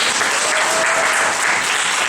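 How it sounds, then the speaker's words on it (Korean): Audience applause for student debaters at a debate camp exhibition match, a dense, even burst of many hands clapping, moderately loud and continuous throughout. "다시 한 번만 박수 한번 드리도록 할까요?"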